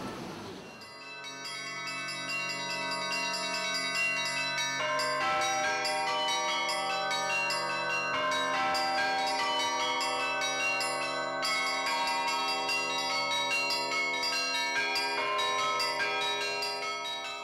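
Twelve church bells, the largest weighing 2.5 tonnes, are rung by a single bell ringer in Staritsa, Russia, producing a dense, continuous ringing peal with layered overlapping tones and steady rhythmic strikes, full and resonant without any voices.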